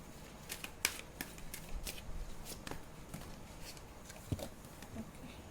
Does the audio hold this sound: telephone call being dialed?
no